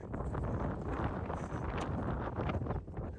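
Strong wind in the Pamir mountains of Kyrgyzstan buffeting the microphone in a loud, continuous roar with gusty fluctuations and no other sounds.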